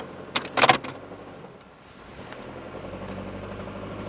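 Keys jangle briefly up close, then a 1990s Toyota Camry running with no oil settles into a low, steady engine hum with a faint rough edge, and no one speaks.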